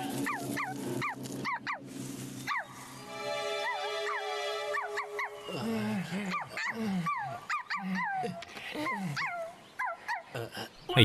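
A dog in an animated story barks and growls in a string of sharp, close yips and snarls, with short gaps and some rising, whining tones.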